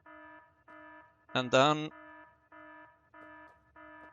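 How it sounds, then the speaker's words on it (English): A loud electronic alarm in the Factorio video game beeps in a regular pulsing pattern, about six tonal bursts, with a brief spoken voice breaking in partway through. "now this thing is still beeping. And it's beeping bloody loudly."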